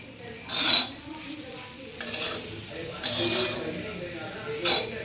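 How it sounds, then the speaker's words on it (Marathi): A spatula scrapes and stirs through chopped vegetables in a pan in several short strokes, with a soft sizzle in between. "थोडंसं आपण हलवून त्याला बघूया खाली लागलं आहे की काय."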